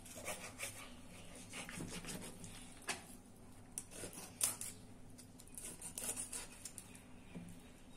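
Repeated knife cuts and scraping on a board as fish is sliced into pieces, irregular slicing strokes with small clicks, close by, no talking.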